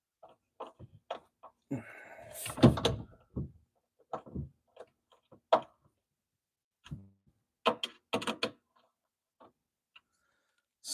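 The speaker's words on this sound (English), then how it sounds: "So I'm pushing the door in as far as it'll go." Door being pushed in during a repair, a series of close, sharp knocks, clicks and rattles with quiet gaps between them.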